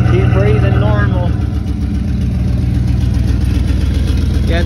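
A 1994 Dodge Ram with the 5.2 engine idles with a catalytic converter delete, a steady, fairly loud low exhaust rumble that runs throughout while a person talks over it.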